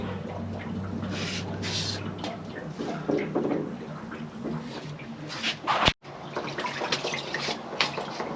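Water drains from the bottom of a household water heater tank during a yearly flush, a steady rushing, gurgling flow close by with a brief loud knock near the end.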